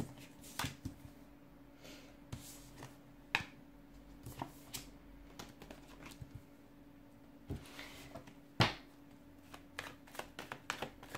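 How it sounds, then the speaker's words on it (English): Tarot cards are shuffled in short, crisp bursts of riffling and tapping, scattered irregularly over a quiet background. "give the cards a shuffle and begin"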